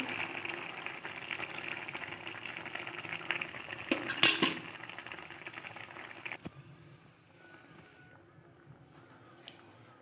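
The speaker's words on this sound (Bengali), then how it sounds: "যে ভালোভাবে ফুটে গেছে ঝোলটা" Curry gravy bubbling in a cooking pan, a soft continuous simmering hiss with a few clinks of a utensil against the pan in the middle, fading quieter toward the end.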